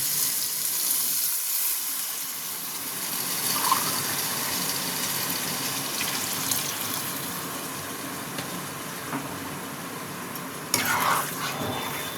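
Water being added to a pot of frying nonveg mixed polao, a steady broadband sizzle and gurgle running throughout at moderate level, with a brief sharper splash or clatter near the end.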